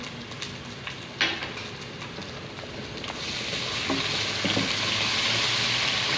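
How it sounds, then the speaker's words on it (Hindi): Steady sizzling and crackling of garlic-ginger paste frying in a hot pan, with a few light scraping stirs, growing slightly louder partway through. "और आधे मिनट के लिए इसको भी भून लेंगे ताकि इसका कच्चापन ख़त्म हो जाए"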